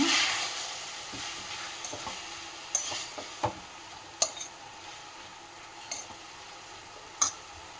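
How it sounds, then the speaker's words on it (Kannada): A spoon stirring a yogurt mixture in a pan for a cabbage chapati roll filling, soft scraping under a faint sizzle, with several sharp clicks of utensil against the pan. "ಮೊಸರು ಚೆನ್ನಾಗಿ ಮಿಕ್ಸ್ ಮಾಡಿಬಿಡೋಣ."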